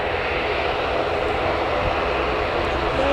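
An EasyJet airliner flying near Newcastle Airport gives a continuous broadband engine roar, steady and fairly loud, with a faint voice murmuring underneath.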